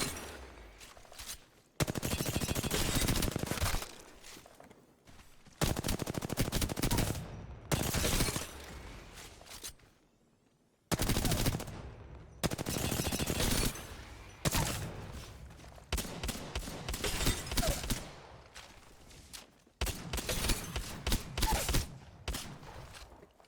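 Gunfire from the Apex Legends video game at mid-range: loud bursts of rapid automatic shots in repeated strings, separated by short quiet gaps, with no talking.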